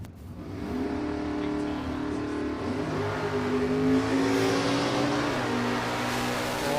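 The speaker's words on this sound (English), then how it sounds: "better launch there for Chris Ferrugia" A drag racing car launches and pulls down the track at the Twilight Nationals qualifying, its loud engine roar climbing steadily in pitch and holding strong throughout without speech.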